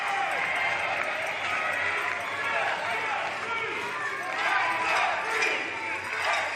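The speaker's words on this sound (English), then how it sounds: "freeze chants going around the entire arena in this sold-out crowd on championship night" A sold-out arena crowd chants for the Freeze on championship night of an INTENNSE match against the Outriders: a dense, sustained roar of many voices that swells and fades across the space, with a commentator talking over it.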